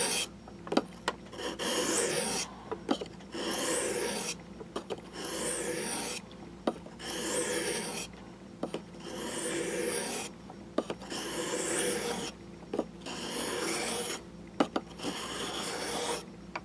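Rhythmic rasping strokes as a Mora knife blade is re-beveled and sharpened, each pass a gritty scraping sweep of about a second, repeated steadily and heard close with short pauses between strokes.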